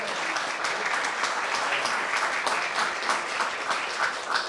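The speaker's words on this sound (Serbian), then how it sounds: "Može aplauz, slobodno." Steady audience applause fills a concert hall during an instrumental music revue in Serbia, a dense, continuous wash of many hands clapping at an even level with no voices over it.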